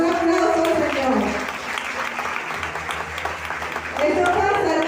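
Applause from a congregation at a religious prosperity retreat, a broad wash of clapping that swells at the start, dips through the middle and rises again near the end, with voices mixed in beneath it.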